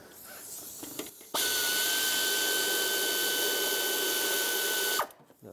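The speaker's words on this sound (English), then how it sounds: "I'm going to use my air ratchet on these." An air ratchet spins off loosened bolts during alternator replacement on a Chevrolet HHR (2006-2011), a single loud steady whirring burst of about four seconds with a high whine, preceded and followed by quiet clinking.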